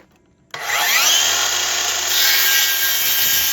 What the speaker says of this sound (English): I'll make these cuts